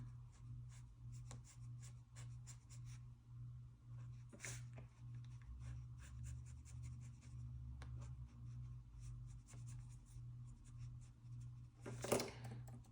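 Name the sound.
pen drawing red ink on planner paper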